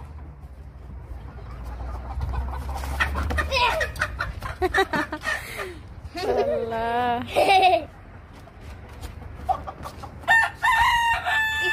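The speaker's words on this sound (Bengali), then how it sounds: "কি সুন্দর একটা মোরগ।" A rooster crows loudly up close, with intermittent clucking from chickens around it, while people talk and laugh nearby.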